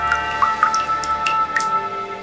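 Liquid dripping into a mold in the Redemption Cemetery: Bitter Frost game, several distinct clear drips at an uneven pace over a faint steady hum, no voices.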